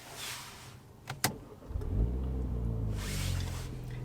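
A 2019 Mini John Cooper Works engine fires up after a brief starter crank, settling into a deep, throaty sporty exhaust idle, close and steady.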